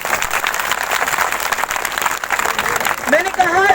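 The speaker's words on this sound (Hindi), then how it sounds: "सब लोग ताली बजाएंगे परमेश्वर के लिए।" A congregation at a live prayer meeting applauds for God, dense, loud clapping that continues throughout while voices rise over it near the end.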